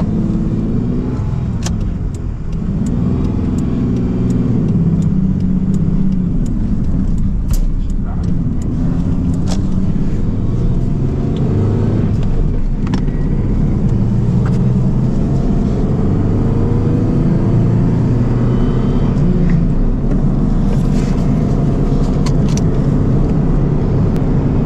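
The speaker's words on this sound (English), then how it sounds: "Come on, car, get out of my way." A car drives along a road with a loud, steady engine and tire rumble that fills the whole stretch, occasional bumps and swells in the noise, and no voices.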